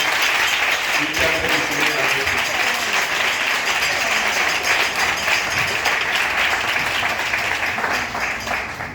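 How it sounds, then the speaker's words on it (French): A large crowd claps loudly and continuously at a church gathering, a dense sustained wave of applause with faint voices mixed in. "Je nous demande encore d'applaudir très fort le Seigneur"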